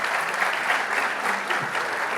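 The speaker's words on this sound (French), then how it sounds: "Raïs, Saoussen Benzidia et Hicham El Alaoui qui méritent, je pense, vos applaudissements" Audience applause at a conference on payment deadlines and digital transformation, a steady crowd clapping that is fairly close and continuous throughout, with no talk over it.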